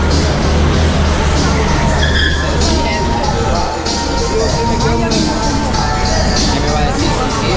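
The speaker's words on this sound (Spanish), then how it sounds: "Ahí viene la moto, miren, está una bala." A Pulsar motorcycle, just fitted with a new drive chain and sprocket kit, roars past at speed, a loud continuous engine and road rush filling the clip with crowd-like background noise.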